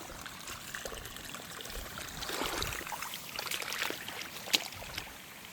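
Water spills through a breach from one flooded rice paddy into the next field, giving a faint, steady trickle and gurgle close by in open farmland, with no talk.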